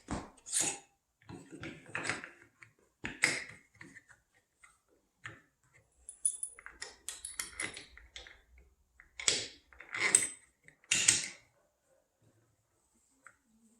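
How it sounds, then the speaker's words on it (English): A Phillips screwdriver drives screws into a KidCo stairway gate mount indoors, making a series of close, quiet clicks and scraping bursts with short pauses between turns. "we're going to use the same two screws and we'll secure it to the top right here"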